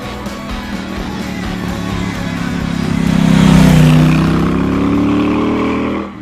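A Triumph Bonneville 1200 Bobber's parallel-twin engine runs loud and close, a steady deep exhaust note that swells as it revs up mid-way, then holds a strong throbbing drone with no talk over it.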